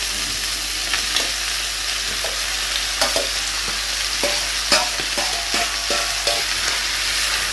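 A pot of onions fries over high heat with a continuous loud sizzle, while a utensil stirs and scrapes through them in irregular clanks and knocks, with no talk.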